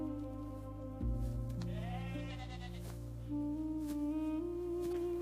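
Goats bleating close by on a mountain pasture where they graze wild herbs: several wavering, overlapping cries over a steady low hum, with no talking.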